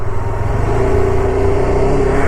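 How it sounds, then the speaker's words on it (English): A vehicle engine with worn, noisy clutch plates runs loud and close, a steady rumbling drone with a faint rattling grind throughout. "So I think that's creating little bit of noise, this clutch plates."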